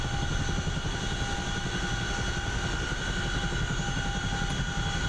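A CH-47 Chinook helicopter in the DCS World flight game lifts off, a loud, steady, dense rotor and turbine roar with a constant mechanical whine and no break in the noise.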